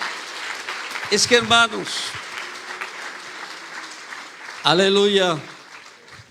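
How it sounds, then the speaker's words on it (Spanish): A church congregation claps loudly for the Lord during a Spanish-language sermon, a steady wash of applause while a preacher's voice calls out over it in short bursts. "Dele ese aplauso fuerte al Señor en esta mañana"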